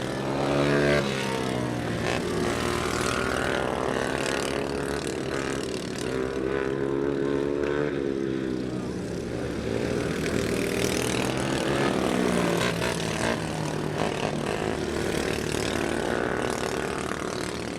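Oval racing karts circle Perris Auto Speedway in Southern California, a steady loud engine drone with rising and falling harmonic sweeps as karts pass, continuous throughout with no talk.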